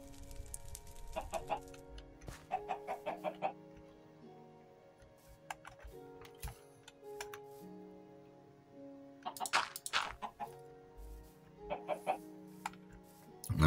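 Chickens cluck in short, repeated clusters in Minecraft with the Better Than Wolves mod, over a steady musical background with scattered clicks.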